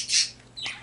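A pet bird gives two sharp, close squawks in quick succession, the first loud and harsh, the second a shorter falling call.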